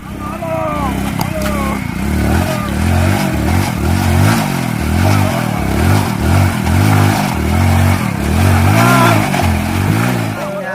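A stuck tractor engine revs hard in repeated surges, loud and close, with rough clattering throughout and voices talking over it.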